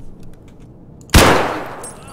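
A single loud SKS rifle shot from the video game Escape from Tarkov, with a sharp crack and a reverberant tail after a quiet lead-in.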